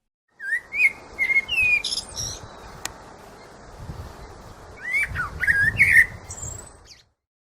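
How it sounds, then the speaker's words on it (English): A blackbird sings clear, fluty whistled phrases in two bursts with a pause between, set against a soft wash of outdoor background noise. "blackbird"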